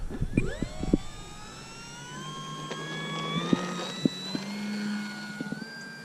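A small RC model airplane engine, a Durafly Slow Poke, whines as it takes off, rising steadily in pitch as it speeds up, with a few sharp knocks early on.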